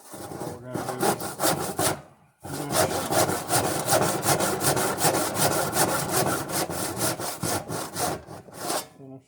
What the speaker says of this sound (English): finish the cut with the handsaw